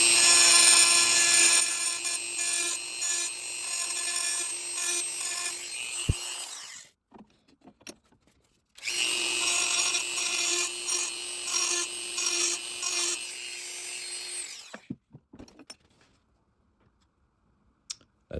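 A file or small sharpening tool rasps steadily against the serrated teeth of a Forstner bit, in two long bursts of scraping strokes separated by a pause, close and fairly loud with no talk.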